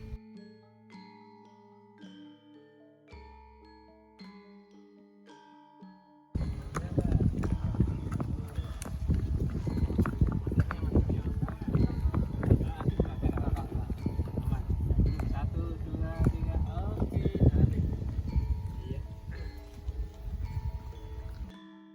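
Horse hooves clip-clop on a ride, a loud, steady rhythm of hoof strikes close by with rustling and movement, after a quieter opening of tinkling tones.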